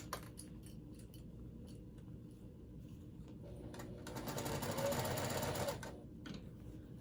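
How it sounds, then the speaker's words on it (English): A sewing machine stitches a quarter-inch seam around a purple water bag with gray thread: a steady whirring run that grows louder and denser toward the middle before stopping, with light clicks around it. "Sewing it about 1/4 of an inch all the way around."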